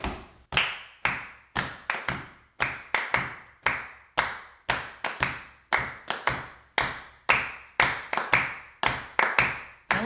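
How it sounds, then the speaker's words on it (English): Hands clap out the Lindy Hop six-count rhythm in a steady repeating pattern of sharp, close claps, some paired in quick doubles, each ringing briefly into a quiet room. "Let's clap it out together."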